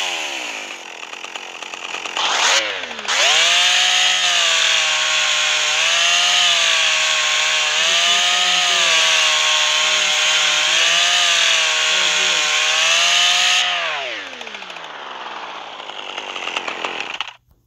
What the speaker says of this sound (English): Up next is a chainsaw.